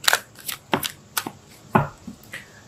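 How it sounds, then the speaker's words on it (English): Tarot cards are riffled and shuffled, then drawn from the deck, giving a series of short, crisp papery bursts up close with small pauses between them, all heard alone without any talking. "Let's pull a card for your emotional space."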